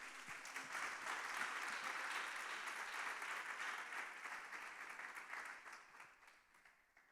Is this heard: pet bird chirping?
no